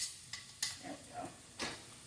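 Green beans with rosemary, thyme and oregano seasoning are stirred in a pan, quiet scraping strokes over a faint sizzle, with four or five distinct stir sounds.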